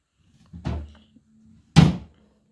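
The door of a toy kitchen fridge is handled: two distinct hollow plastic thunks about a second apart, close by and fairly loud, with no talking.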